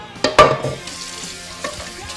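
Turkey chili sizzles in a pan while it is stirred, with a couple of sharp scraping bursts at the start settling into a softer, continuous frying crackle.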